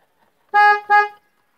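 Two short, loud honks of a Volkswagen Gol G6 car horn close by, the second right after the first, in an otherwise quiet setting.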